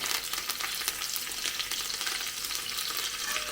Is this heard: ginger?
yes